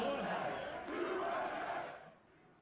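A darts event crowd roars and chants in unison, a loud sustained wall of massed voices that swells mid-way and then fades toward the end.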